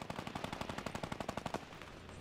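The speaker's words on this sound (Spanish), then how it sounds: "escuchan los balazos y eso es bueno para mí" Rapid automatic gunfire in Fortnite, a fast steady burst of sharp shots lasting about a second and a half, then cutting off into quiet.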